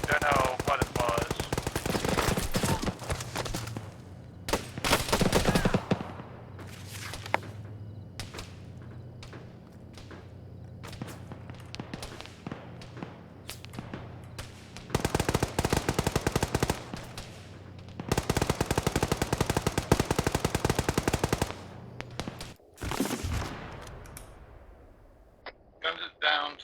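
Close gunfire in a military shooter video game: bursts of automatic fire and single sharp shots crack in rapid clusters, loud and near, with pauses between volleys and radio-style voices talking over parts of it.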